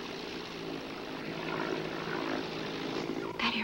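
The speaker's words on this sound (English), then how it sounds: "That airplane's looking for us." A droning propeller engine hums steadily, swelling slightly as the plane passes overhead, followed by a brief clatter at the end.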